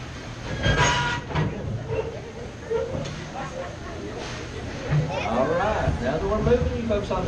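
The Dollywood Express train, pulled by locomotive #192, rolls along its rails with a low steady rumble and rhythmic rattling of the cars, while people talk nearby.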